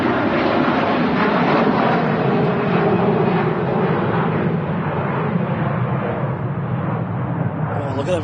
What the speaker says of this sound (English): another A330 on the runway. Virgin Atlantic A330-300.